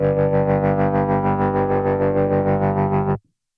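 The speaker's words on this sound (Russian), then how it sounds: "Давайте попробуем в тремоло." Bass guitar through a Fender Rumble Studio 40 combo amp with tremolo engaged, a sustained note pulsing steadily in volume for about three seconds before being cut off, loud and alone.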